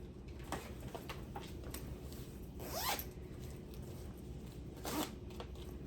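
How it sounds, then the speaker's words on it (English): A bag zipper with a piece of paper stuck in it is pulled in a couple of quick, raspy strokes, close by, over a steady low background hum. "I got a piece of paper stuck in my zipper."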